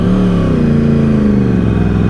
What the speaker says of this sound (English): The noise that comes out of these exhausts is absolutely fucking biblical.